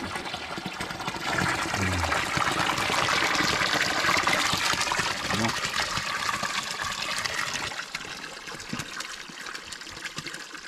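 Continuous splashing flow of spring water pouring and trickling nearby, steady and fairly loud, easing slightly toward the end.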